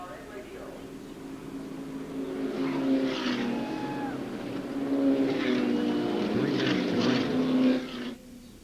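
Onboard engine roar from the Briggs and Stratton car racing in the 1998 NASCAR Busch Grand National Touchstone Energy 300 at Talladega, a loud sustained drone that rises and falls in pitch under continuous commentator talk, then drops off near the end.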